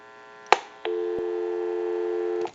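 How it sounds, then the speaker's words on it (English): A click, then a steady, unbroken dial tone from an AE Monophone 40 rotary desk telephone hums loudly for about a second and a half before cutting off with another click. "give you some dial tone"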